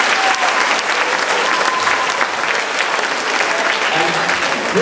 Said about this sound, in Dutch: Het VNK, dit is alvast een applaus.